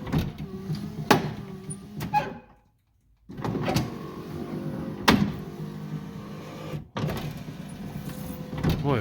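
A repaired front power window motor on a Lincoln Continental whirs and strains in several runs, with clunks and thumps where the glass starts and stops and a short silent pause between passes.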